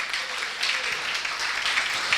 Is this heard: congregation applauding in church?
yes